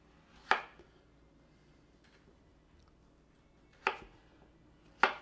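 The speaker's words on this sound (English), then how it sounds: "And we're just going to cube our potatoes." Three distinct knife chops into potatoes on a cutting board while cubing them for clam chowder, crisp thuds spaced apart against a quiet kitchen background, without talk.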